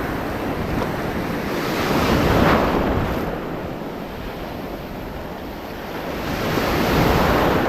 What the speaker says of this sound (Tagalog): Grabe lang talaga yung alon,